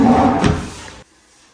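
A wooden cabinet drawer slides and knocks shut in one close, brief movement, followed by quiet.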